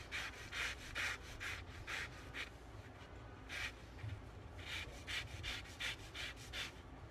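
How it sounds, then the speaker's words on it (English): A lemon is zested on a grater in a home kitchen, making quiet, rhythmic rasping strokes in short bursts with a brief pause in the middle. "We're going to zest the lemon"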